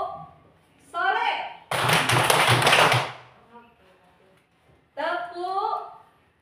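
A classroom of students claps together in a short rhythmic burst of patterned clapping, set between chanted voices before and after.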